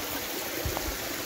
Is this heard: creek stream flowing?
yes